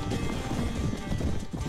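Horse galloping in Mount & Blade, a brief burst of quick drumming hoofbeats, moderately loud and close, with a dense low rumble under it.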